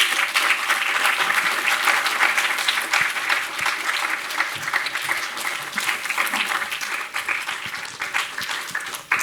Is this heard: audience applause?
yes